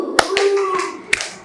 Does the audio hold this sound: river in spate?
no